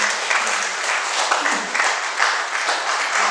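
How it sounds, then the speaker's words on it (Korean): An audience in a church breaks into dense, sustained clapping, a steady wash of many hands throughout with no break. "이럴 때 박수 세게 치는 거 뭐라고 안 해요"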